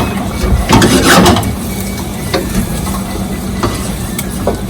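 Cauliflower cooks in sauce in a pan for village-style pasta, giving a steady low sizzle with a louder burst of stirring and scraping early on, then a few soft utensil clicks over the continuing simmer.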